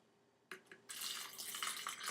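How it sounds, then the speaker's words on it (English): Water is poured over dried split peas in a blender jar, a short splash followed by a steady trickling pour that stays close and fairly quiet. "just enough water to cover the split peas"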